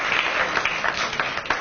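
Applause from an audience at a public MTA board meeting, a steady broadband patter of clapping that carries on without a break, moderately loud and heard alone.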